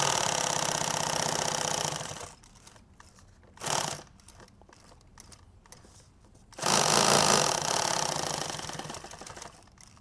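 A sewing machine tacks down a hem on a tactical apron in two sustained loud runs, one short burst and a quieter gap between them, heard close with no talking.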